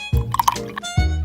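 Coconut milk poured into a small bowl in a miniature kitchen, a short burst of liquid splashing and dripping for about a second, close and fairly quiet.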